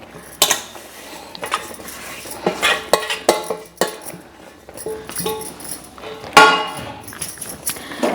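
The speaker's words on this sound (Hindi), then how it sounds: "और इसको लगातार हम चला देंगे।" Sesame seeds being stirred in a pan for laddoos, with close scraping and clinks of a metal spoon against the pan in an irregular rhythm, sometimes sharp and loud.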